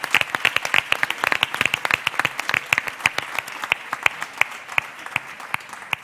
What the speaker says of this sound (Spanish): un aplauso para vosotras